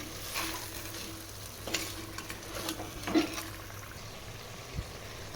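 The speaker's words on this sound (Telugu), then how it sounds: "రెండు మూడు నిమిషాలు ఇలా ఫ్రై చేస్తూ ఉండాలి ఇలా అప్పుడప్పుడు కలుపుతూ ఉండాలి" Mutton frying in a pan is stirred now and then, with a low, quiet sizzle under scattered soft scrapes and clinks of the spoon over a few seconds.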